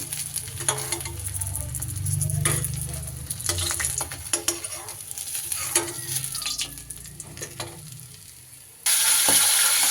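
Spotted snakehead fish frying in oil in a pan, giving a steady close crackling sizzle with occasional stirring clinks, ending in a sudden louder, brighter hiss.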